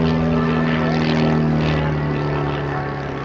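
A propeller airplane at an airshow drones steadily overhead, its engine note wavering and shifting slightly in pitch as it passes, fairly loud and continuous.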